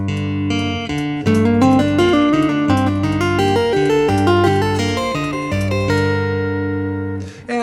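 Chapman Stick playing a diatonic scale phrased with two pull-offs per string, a steady run of clear tapped and plucked notes stepping along evenly, with no talking.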